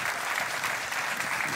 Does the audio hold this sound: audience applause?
yes